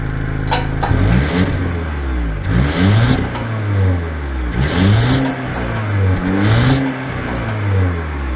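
A 2022 Volvo XC60 B6 R-Design pulls away, its engine rising through repeated revving sweeps as it shifts up, close and loud, with no voices.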